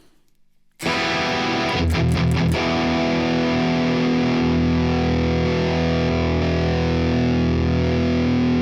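Electric guitar driven through an Exotic seed boost pedal into a heavy metal tone, a loud distorted chord struck after a short silence, a few quick chugs, then left ringing and sustaining alone.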